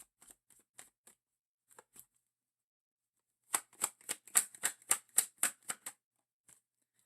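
Playing cards being shuffled for a card draw: a few soft isolated riffle bursts, then a dense run of about ten sharp rapid shuffling snaps, close and clear with no talk.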